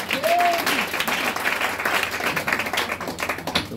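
A church congregation applauds to acclaim the word of God, a dense, sustained burst of clapping from a crowd that fills the room for several seconds.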